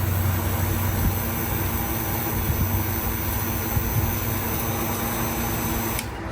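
Vacuum pump evacuating the air-conditioning system of a classic Peterbilt truck, a loud steady mechanical drone with a constant whine that holds unbroken and then drops off slightly near the end.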